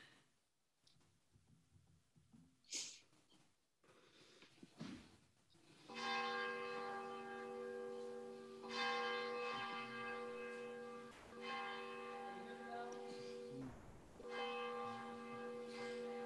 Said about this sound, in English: Can you hear the bell, everybody?